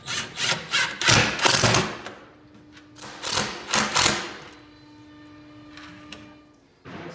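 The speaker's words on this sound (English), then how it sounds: "we're going to screw in the back platform" Screws being driven into the back bed platform during furniture assembly, heard as bursts of whirring drill-like grinding with pauses between, close and fairly loud, then a quieter stretch with a faint steady hum.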